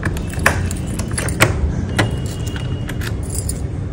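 Keys jangle and scrape against a house door lock as someone fumbles to fit the key, giving a close, steady metallic jingle with several sharper clinks and no talking.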